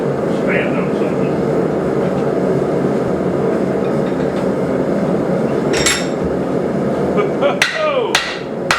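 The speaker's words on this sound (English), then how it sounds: "Hammering this high sucks." A blacksmith hammers hot metal at a forge while making a chain stand. The loud, steady strikes run across the whole stretch over a dense ringing roar, and a few sharp metallic clangs stand out near the end.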